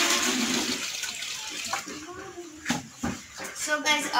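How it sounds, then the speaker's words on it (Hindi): A vegetable stand is washed at home with detergent water, bringing splashing, sloshing and wet slaps against the stand. Someone talks over it. "तो अभी मैं अच्छे से सर्फ पानी से पहले साफ़ कर रही हूँ वेजिटेबल स्टैंड को"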